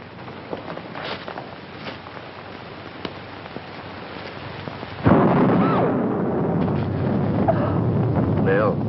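Thunder during a storm breaks in a sudden loud crack and rumble midway, following a quieter stretch of wind and rain-like noise, then a sustained roar that lingers to the end.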